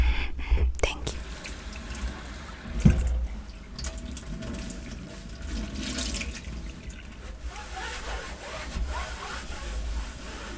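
Dishes being washed under a running kitchen tap, a steady splashing stream of water with clinks and clatters of dishware near the start, and faint whispery chatter mixed in.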